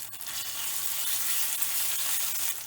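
Green chilies sizzling in hot olive oil with ginger garlic paste: a dense, continuous bright hiss of frying, close and steady throughout with a slight swell and fade, no voices.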